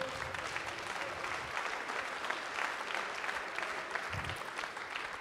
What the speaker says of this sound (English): Give an applause for these people.